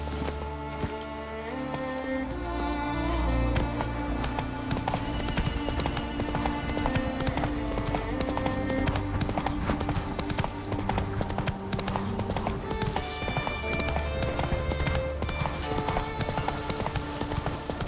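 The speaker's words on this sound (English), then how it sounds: "Whoa there, Roach" Clip-clop of a horse's hooves in the video game The Witcher 3, a steady rhythmic beat running under a dense, loud musical score throughout.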